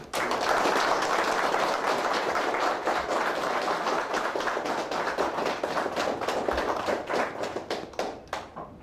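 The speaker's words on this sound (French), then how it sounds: "je vous demanderai de vous mettre debout pour applaudir le sérénissime de maître passé André Jean-Gilles" A standing audience applauds at a Masonic lodge gathering, a dense, continuous patter of many hands clapping that holds steady and then thins into scattered claps toward the end.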